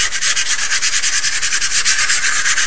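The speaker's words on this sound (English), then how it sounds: "you're just going to sand it real lightly" Light hand sanding with 220 grit sandpaper on a small chalkboard plaque, a steady, even back-and-forth scratching rub that is close and loud with no talking.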